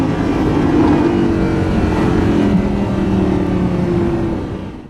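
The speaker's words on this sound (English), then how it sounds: "So we've pulled over in a 2015 Lamborghini Huracan for a spot of lunch" A 2015 Lamborghini Huracan engine drones loud and steady from inside the car while driving, a constant low rumble that eases off at the very end.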